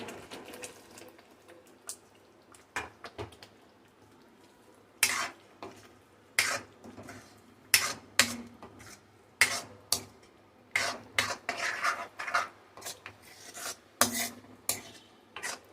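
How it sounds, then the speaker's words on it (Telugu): Fried potatoes for Kashmiri dum aloo are added to a pan and stirred, with a string of close metallic scrapes and clatters, sparse at first and then quick and irregular, over a quiet background. "ఇప్పుడు వేయించుకున్నటువంటి దుంపల్ని వేసుకుందాం"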